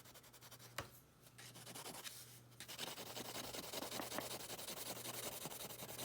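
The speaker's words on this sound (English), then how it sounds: "Just kind of layer the yellow on top of there." Colored pencil layers yellow over orange on paper, giving a close, steady scratching and rubbing of strokes that runs almost unbroken, with a faint low hum underneath.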